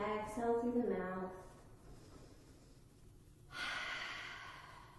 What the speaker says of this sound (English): You can add some cleansing breath here. Inhale through the nose, exhale through the mouth.